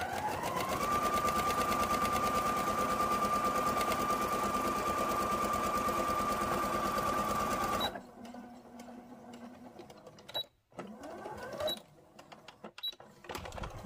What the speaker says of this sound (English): We're going to sew this long side and this long side.